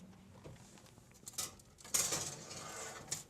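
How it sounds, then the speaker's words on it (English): Faint metallic clinks and scrapes from a baking pan of perch being pulled out of a kitchen oven, a few light knocks followed by a louder clatter, no talking. "that perch should be done. We're going to take it out of the oven"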